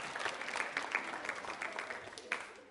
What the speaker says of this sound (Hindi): तालियां एक बार फिर बजाइए महिला सशक्तिकरण में आपके योगदान के लिए।